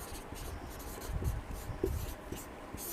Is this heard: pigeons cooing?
no